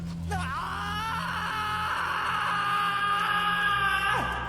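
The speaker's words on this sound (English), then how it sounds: "Raphael then proceeds to dig up the grave of his brother and sister with his bare hands, until he finds two skulls and screams in agony" Raphael, a character in the Yu-Gi-Oh anime, lets out one long, loud anguished scream of agony that holds and wavers for about four seconds, then drops sharply in pitch and breaks off, with a low steady hum beneath.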